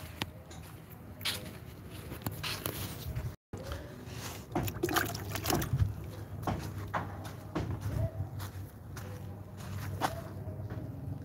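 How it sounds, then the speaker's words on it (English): Water poured onto young amaranth plants in a drought-stricken garden, irregular splashing and trickling with rustling and shuffling close by, broken by a brief dropout. "Let me add some water."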